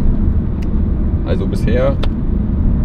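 An Audi RS4 B7 runs with a steady low engine drone from inside the moving car while someone talks over it.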